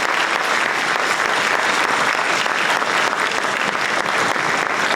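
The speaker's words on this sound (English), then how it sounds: "a round of applause for all of the candidates" A large audience at the Bristol Chamber of Commerce municipal candidates' forum applauds the twelve candidates, a dense, steady wash of clapping that stays loud and even for the whole stretch with no voices on top.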